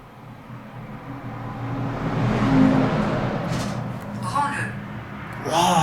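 A truck passes outside an old, abandoned house, its rumble swelling to a peak and then fading, with people talking near the end.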